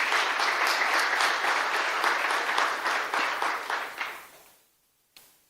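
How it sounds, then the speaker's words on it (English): A church congregation gives a warm round of applause, steady and full for about four seconds before tapering off, followed by a brief final sound. "Let's give them a warm round of applause."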